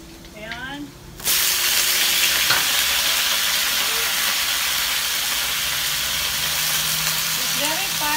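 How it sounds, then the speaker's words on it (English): Lettuce is tossed into a hot pan and erupts into a loud, steady sizzle with hissing steam, stir-fried close up, with a voice heard briefly before the food hits the oil. "I want to stir fry this one, guys. Stir fry lettuce, guys."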